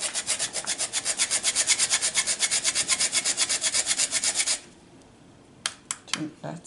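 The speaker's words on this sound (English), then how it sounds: "Gonna grate our nutmeg." Whole nutmeg is grated by hand for vegan waffle batter, giving a fast, even run of close, scratchy rasping strokes for several seconds before it stops, followed by a few light knocks and clatters.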